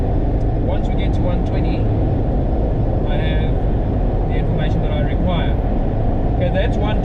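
Steady, loud road roar and engine drone from inside a Toyota Landcruiser 80-series cruising at highway speed, constant and unbroken, with a person talking over it.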